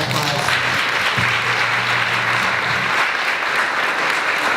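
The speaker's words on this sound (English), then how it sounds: "Let's give these ladies another round of applause." An audience at a breast cancer survivor support brunch breaks into sustained, even applause, dense clapping from a room full of people, with a voice faintly underneath.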